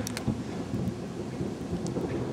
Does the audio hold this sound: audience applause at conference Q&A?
no